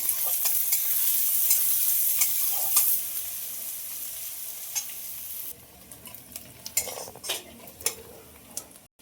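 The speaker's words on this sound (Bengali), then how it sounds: "ভাজার জন্য নেড়ে দেবো" Chopped onions sizzle in a pan as a utensil stirs them, with scraping and metallic clinks over steady frying; the sizzle drops off midway and sharp stirring knocks continue, no voices.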